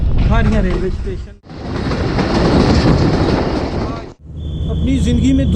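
The Jaffer Express runs on rails between Rawalpindi and Lalamusa, a loud, close, steady roar and rumble of wheels on track with rhythmic clatter, broken by brief pauses, and voices heard at the start and end.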